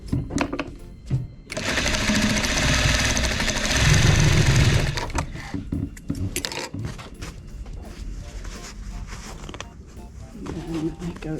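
Sewing machine stitching the lining of a bag made from a damaged vintage quilt, a loud steady whirring run of about three seconds with shorter bursts before and after amid handling noise.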